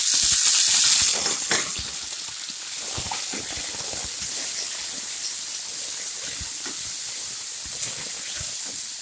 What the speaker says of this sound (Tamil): வெங்காயம் நல்லா வதங்கிச்சு நம்ம இதில் தக்காளி சேர்த்துக்கலாம்